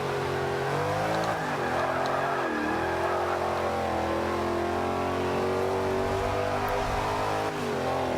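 A GT500 car engine in Forza Motorsport 5 revs and accelerates through the gears, a loud, continuous engine drone that rises and dips in pitch, with no talk over it.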